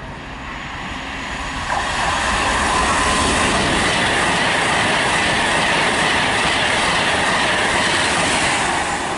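A Turbostar diesel train pulls out of Nuneaton station on the West Coast Main Line, its rumble rising sharply early on, then a steady, close roar with rhythmic clickety-clack of wheels.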